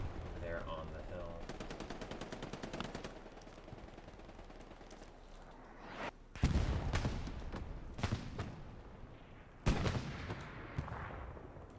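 Tank cannon fire and shelling in a World War II video game featuring a Panzer IV, with machine-gun rattles and several heavy, booming impacts that stand out over a busy, noisy battlefield background.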